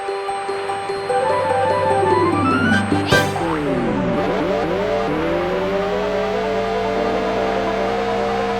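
Cartoonish race cars in the 1994 PlayStation racing game Motor Toon Grand Prix, with loud, continuous engine whine climbing and dropping in pitch, a sharp whoosh or crash burst partway through, and tire squeal over steady game noise.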